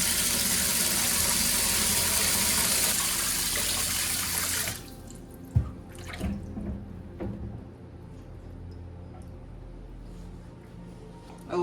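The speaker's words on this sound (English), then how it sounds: "So I'm gonna put a whole new sink of cold water in here" Cold water runs from a tap into a kitchen sink for blanching peas, a loud steady gush for the first few seconds that then cuts off, followed by quieter clatter and faint handling sounds.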